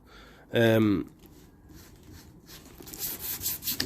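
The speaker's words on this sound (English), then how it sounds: "With using a pad, you get a lot more even sanding." A Land Rover body panel is sanded with a sanding pad while being prepped for a top coat. A short, loud harmonic tone comes first, then soft, close rubbing strokes that grow louder and scratchier toward the end.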